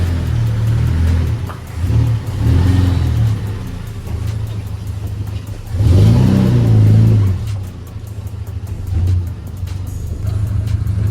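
A Toyota 4K engine runs after a valve clearance tune-up, idling close by and revving up in several bursts, rumbling between blips.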